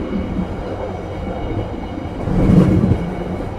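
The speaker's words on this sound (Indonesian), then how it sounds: "Kereta dengan stainless generasi pertama bawa priority." A train of first-generation stainless steel carriages carrying priority class rumbles past in Indonesia, a steady low roar of wheels on rail that grows louder near the end before easing off.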